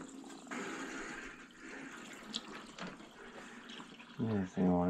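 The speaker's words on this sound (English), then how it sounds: "We're filling through the cold back into my pump so that this way the line is pre-charged with water" Water rushes steadily through a cold line back into a pump, filling and pre-charging the line. It ends with voices talking close by.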